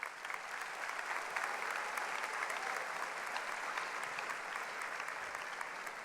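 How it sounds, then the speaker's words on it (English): The 2024 graduating class at the NISD Health Careers High School graduation ceremony breaks into sustained, dense applause, a steady wash of many hands clapping that fills the hall for several seconds. "give yourselves a round of applause for being the best class of all."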